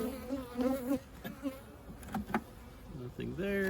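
Honeybees buzz around an open hive during an inspection, a close, fluctuating hum with individual bees passing near, quiet overall with faint handling noises.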